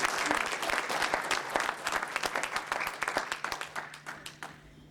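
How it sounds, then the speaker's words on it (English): A comedy-show audience applauds a nurse with a dense burst of clapping that thins out toward the end into scattered, separate claps. "Let's give her a round of applause."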